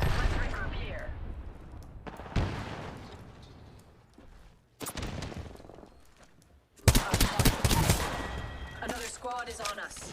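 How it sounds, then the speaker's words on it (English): Gunfire in a squad-based battle royale video game: scattered shots and bursts under player voices, then a loud dense volley of rapid fire near the end. "Shooting."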